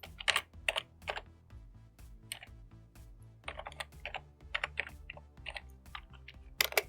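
Keys clack on a computer keyboard as a web mail address is typed, quick irregular bursts of crisp taps with short pauses, close and fairly quiet, with no talk.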